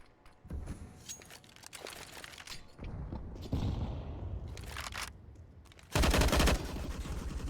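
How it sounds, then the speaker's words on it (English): Rifle gunfire rattles through a Counter-Strike match on the Vertigo map, with repeated rapid bursts of shots across the scene and a loud, dense volley near the end. "Half fire coming in around the 2 rifles they have on Nexa and Otto"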